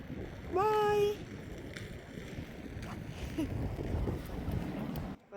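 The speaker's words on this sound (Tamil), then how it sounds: "இப்போ காற்று வீசுது" Wind gusts blow across a cold outdoor setting, a rough, steady rush buffeting the microphone, with a brief whistling tone early on.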